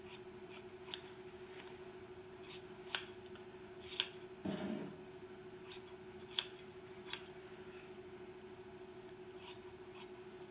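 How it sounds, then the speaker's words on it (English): Dull scissors snip through a thick pillow in scattered, uneven cuts, sharp close clicks separated by pauses, with a faint steady hum underneath. "Maybe my scissors will cut."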